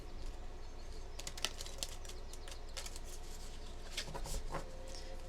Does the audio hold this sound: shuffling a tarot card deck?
yes